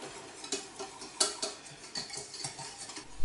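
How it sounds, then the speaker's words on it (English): A whisk scrapes and taps steadily around a bowl, stirring a chocolate mixture with cacao powder for hot cross buns until smooth. The strokes stay close and rhythmic with no talking, and a low thump comes at the end. "And we whisk this all now until it's nice and smooth."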